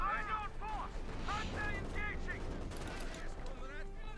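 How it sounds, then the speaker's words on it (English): Distant artillery and gunfire thud through a Company of Heroes 2 battle, muffled booms and scattered shots, fairly faint, under a commentator's continuous talk. "then call in the artillery to finish it off"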